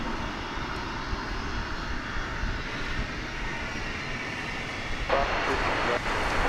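A jet airliner at Dallas Fort Worth Airport makes a loud, steady rumbling engine roar that fills the whole stretch, with a slight surge near the end.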